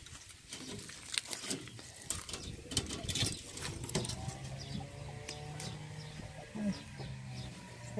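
Chickens on a small agroforestry farm cluck and coo softly nearby, mixed with scattered patter and rustling, with no one speaking.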